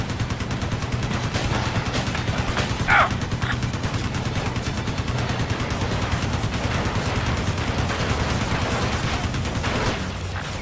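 Fighter jet cannon fire over Moscow in Ace Combat: Assault Horizon, a dense, continuous roaring burst that fills the whole stretch at steady loudness, with no talking.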